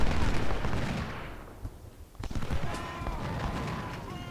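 Musket volleys and artillery fire in the Ultimate General: Civil War battle at Cross Keys, a dense rolling crackle of gunfire with sharp reports and heavy booms, loud and continuous under a brief dip.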